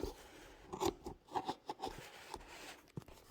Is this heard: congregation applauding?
no